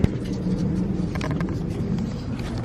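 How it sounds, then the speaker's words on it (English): A car that failed its smog test starts up with a brief jolt and settles into a steady, close, low engine rumble at idle, with no talking. "I'm gonna start the car, I'm gonna idle it"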